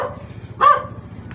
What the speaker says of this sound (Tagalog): Bagsik po ng aso